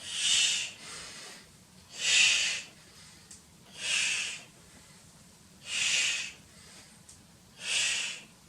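Forceful exhales during a Pilates bicycle crunch, five or six sharp, breathy bursts in an even rhythm with quieter inhales between them, close and clear with no talking.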